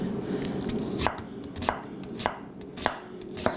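A cheap santoku knife chops through food on a cutting board, five or six distinct, fairly soft knocks spaced roughly every half second over a quiet kitchen background.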